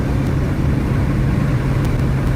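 Road convoy vehicles driving on the Washington Beltway, heard as a steady, fairly loud traffic rumble of engines and tyres with no distinct passes and no voices.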